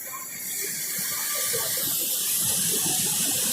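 Panimur waterfall on the Kopili river roars as a steady, loud broadband rush of falling water, close and continuous without a break.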